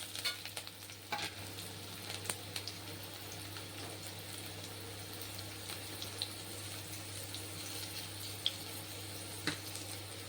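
Spices such as asafoetida frying in a pan for Chettinad potato masala, a steady soft sizzle with faint stirring clicks, quiet and continuous without talk.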